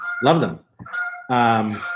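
Loud, close honking calls of geese outdoors, a few harsh cries in quick succession with a brief gap between them.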